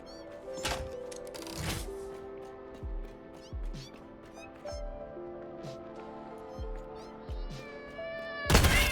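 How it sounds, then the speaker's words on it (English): A cat in a game lets out a couple of faint meows among repeated soft thumps and background music, with a sharp burst near the end. "Ah, there's a cat."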